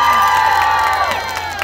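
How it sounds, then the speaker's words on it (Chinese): A concert crowd at an outdoor beach event cheers and screams loudly, a dense burst of excited voices over a sustained musical tone. "来点热情的掌声加尖叫声"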